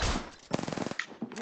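Enemy gunfire in a multiplayer shooter video game, a rapid burst of about a dozen closely spaced shots lasting under a second, fairly quiet, with a brief voice around it.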